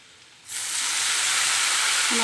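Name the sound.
tempering spices sizzling in hot oil for vegetable dish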